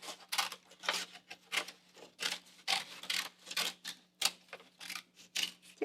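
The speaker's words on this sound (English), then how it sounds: "So I'm just using my scissors again." Rapid snips and crisp rasping cuts, repeated in quick bursts close to the microphone, like scissors working through paper, with no voices.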